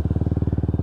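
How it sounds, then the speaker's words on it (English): A Lexmoto Tempest GT 125 motorcycle idles just after starting, its exhaust giving a loud, close, low burble of rapid, evenly spaced pulses. "That burble of that exhaust."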